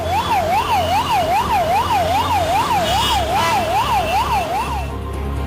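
An ambulance siren wails steadily up and down in a fast repeating cycle, loud and close, over the dense rumble of a jammed Delhi street in monsoon rain, then cuts off near the end.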